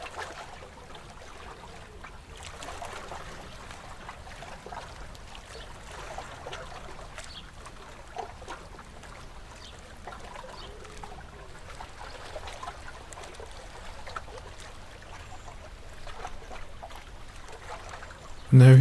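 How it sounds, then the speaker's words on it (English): Soft water lapping against a wooden boat, a quiet continuous sloshing with faint irregular knocks, calm and close, with no voices. "sounds of the waves against the boat again. The rhythmical drumming of water on wood."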